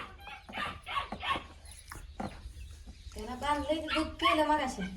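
A dog barks a few times nearby, followed by a person talking; the barks may partly be a voice imitating a dog.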